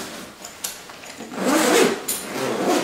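Compression straps being loosened on a packed Tom Bihn backpack, heard as close rasping webbing slides and buckle rubs in short uneven pulls.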